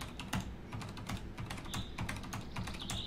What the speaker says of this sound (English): That's literally me just typing gold onto my keyboard.